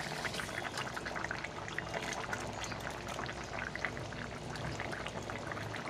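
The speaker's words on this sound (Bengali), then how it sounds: "ঝোলটা আমার ফুটে গেছে।" Curry gravy boils steadily in a pan: a dense, continuous hiss of bubbling and popping at close range, with no voices over it.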